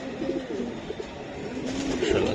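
Several domestic pigeons, including aluminium silver types, coo close by in a series of soft, repeated throaty calls that rise and overlap toward the end.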